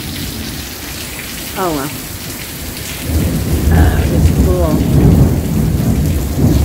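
A thunderstorm outside brings heavy, steady rain with rolling thunder that swells louder partway through, while a person speaks briefly over it.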